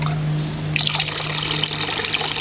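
Small water fountain pump switching on in a basin filled with water, a steady low hum joined partway through by a bright, continuous trickling and splashing of water.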